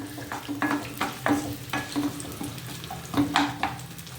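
Chopped onions frying in a pan, a light sizzle under repeated scraping and clinking strokes of a spoon against the pan in an irregular rhythm, close, with no talk.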